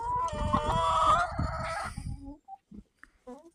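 Loud, dense chicken vocalizations with crowing-like calls for about two seconds, then scattered soft clucks and short calls amid near silence.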